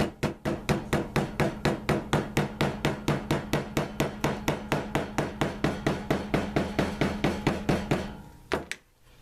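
A small hammer taps leather stitches steadily and rapidly, around forty even strikes close by, then a couple of final knocks before stopping.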